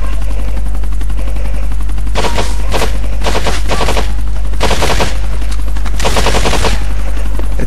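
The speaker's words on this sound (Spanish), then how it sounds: "Está disparando el tío" Rapid automatic gunfire in the video game GTA IV, several loud bursts of shots over a constant loud helicopter rotor drone, close and harsh, with no talking.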